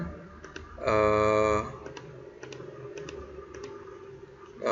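A burst of keystrokes on a computer keyboard, followed by a few scattered single clicks, close and fairly quiet with nothing else around them.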